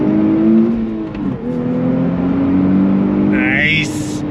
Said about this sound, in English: We're gonna do 1st gear. You ready? If you're ready, I'm ready. On throttle, here we go!